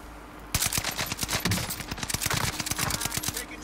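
Video game gunfire starts abruptly in rapid automatic bursts of sharp, closely spaced shots. The bursts continue unevenly with brief gaps, loud and near, with no voices.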